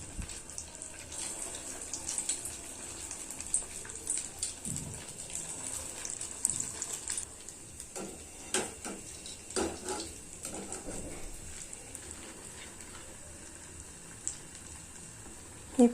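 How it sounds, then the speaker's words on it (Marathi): Potato-stuffed bread rolls deep-frying in hot oil in a kadhai over a full gas flame, a steady close bubbling hiss with scattered crackles and pops throughout, no voices. "हे फुल गॅसवरतीच तळायचं आहे."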